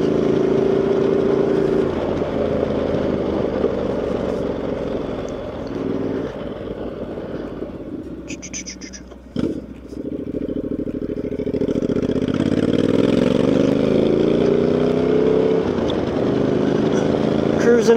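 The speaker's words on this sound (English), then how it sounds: "Cruising on my Honda CTX." Honda CTX motorcycle cruising along a rough, bumpy road, its engine droning steadily close by with a brief dip in the middle, and a voice talking over the ride.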